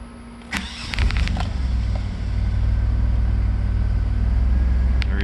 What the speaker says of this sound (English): So let me fire this thing up and see what happens.